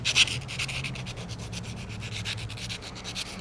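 A metal file rasps the inside of a Japanese chisel's ring in quick, even back-and-forth strokes, close and continuous throughout.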